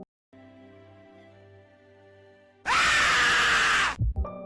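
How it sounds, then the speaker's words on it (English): A zombie screams loudly and close in a TV commercial, a sudden harsh roar blasting in after a low droning stretch, then cutting off abruptly. "A zombie goes full frame of the camera and screams his lungs out."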